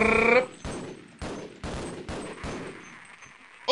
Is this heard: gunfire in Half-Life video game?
yes